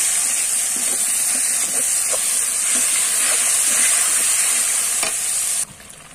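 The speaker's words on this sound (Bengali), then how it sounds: "আদা রসুন একসাথে দিয়ে ভালো করে নেড়ে নেব" Onions with ginger garlic paste and green chillies fry in a pan, giving a loud, steady hissing sizzle with soft stirring knocks scattered through, before the sound abruptly drops quieter near the end.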